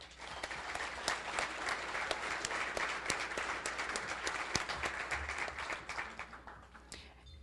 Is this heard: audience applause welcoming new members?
yes